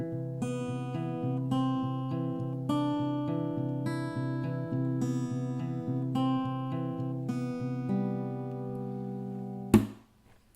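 An acoustic guitar plays half the verse of a song, steady picked notes ringing over sustained open strings, close and gentle, ending with a sudden muffled thump of the strings being stopped.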